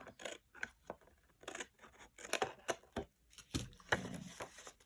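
Scissors snip repeatedly through a scenic book page, a run of short crisp cuts in uneven bursts with brief pauses between, close and moderately loud with no voices.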